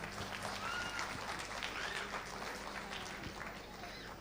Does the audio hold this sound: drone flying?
no